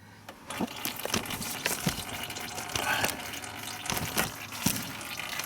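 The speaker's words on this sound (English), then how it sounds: "we got our oil flowing" Engine oil pours from a Ford engine into a drain pan during rear main seal work, a continuous close splashing liquid stream with irregular gurgles and spatters, moderately loud without speech.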